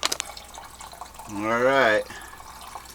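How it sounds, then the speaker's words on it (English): Lukewarm water poured into a colonoscopy prep container, a gurgling fill whose pitch rises steadily for about a second as the container fills. A voice speaks briefly before the pour. "you want to add lukewarm water"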